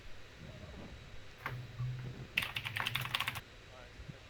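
Mechanical keyboard typing in quick bursts, brief taps first and then a dense run of clicky keystrokes near the mic over low background hum.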